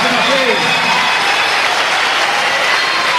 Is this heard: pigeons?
no